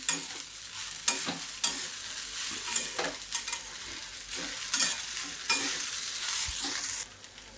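Asafoetida tempering frying in a pan for poha, stirred with repeated sharp spoon scrapes at irregular intervals over a steady, close sizzle.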